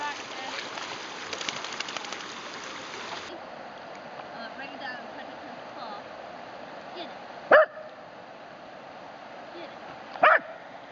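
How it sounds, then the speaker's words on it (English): Dog barking while swimming in a river, two sharp separate barks over the steady wash of flowing water, with a brief splashing or rumbling start. "Oh, he barks in the water."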